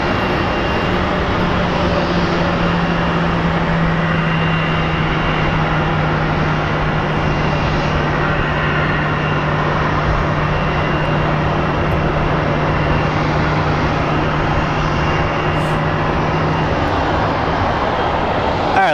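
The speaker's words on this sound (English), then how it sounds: "let's go get that flight from Des Moines, Iowa coming in" An airliner arriving at Phoenix Sky Harbor airport roars steadily and loudly as a broad engine rumble with a low droning tone, sustained throughout at close range with no talk.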